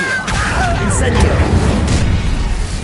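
A fire spell, Incendio, is cast in a Harry Potter video game, producing a loud, sustained roaring burst with rumbling booms. Shouted voices sound over it throughout.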